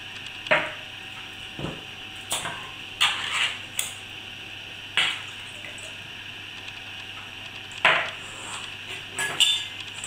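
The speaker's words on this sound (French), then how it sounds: "et émiettez-les à l'aide d'une fourchette." A fork working through drained canned tuna in a bowl, giving a series of sparse, sharp metallic taps and scrapes, roughly eight separate clinks spread out over a quiet background hum.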